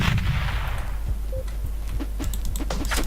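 Explosions and blasts in the top-down shooter Teleglitch: a heavy boom with low rumble at the start, followed by a run of short, sharp gunfire-like cracks over a constant low hum.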